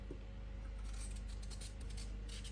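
A favourite kitchen knife peels potatoes over a bowl, giving faint, brief scraping strokes in a few short runs against a steady low hum.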